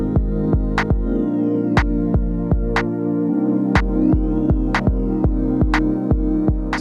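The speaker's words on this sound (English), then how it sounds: "kick and snare sounds like this" Electronic breakbeat drum pattern in Ableton Live, with punchy kick and crisp snare hits in a steady syncopated groove over a sustained low bass tone, playing alone without talk.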